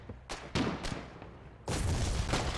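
Gunfire from enemies strikes a player's sandbag defenses in the war game Foxhole, with several sharp shots in irregular succession followed by a heavier, sustained burst of firing and impacts.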